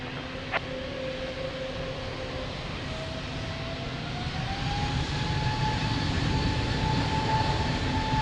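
An airliner jet takes off from runway 02 at Lisbon Airport, a steady, loud engine roar with a rising whine that holds throughout, with no voices.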